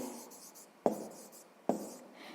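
A pen writes on paper during a sixth-grade maths exercise, with soft scratching strokes and two sharp taps as it touches down, close and quiet.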